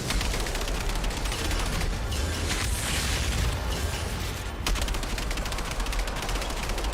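Dense light-machine-gun fire in the shooter game Outriders rattles in sustained rapid bursts with a near-constant barrage of shots and explosive crackle throughout, loud and with no talking.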